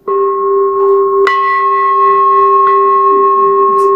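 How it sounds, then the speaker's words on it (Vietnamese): A Buddhist temple bell sounds loud and close with a long, pure humming ring, then is struck again partway through, renewing a bright metallic strike that settles back into the sustained resonant tone, with no talk. "Người thỉnh chuông phải đủ năng lực phát tiếng chuông đều, không nên tiếng nhỏ tiếng lớn."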